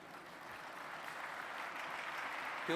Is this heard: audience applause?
yes